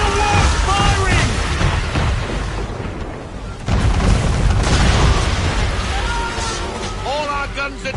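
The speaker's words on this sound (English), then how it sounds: "Man of war firing!" Enemy man-of-war warship firing its cannons during a naval battle in Assassin's Creed 3, heavy booming blasts rolling continuously with dense low rumble and crashing impacts throughout.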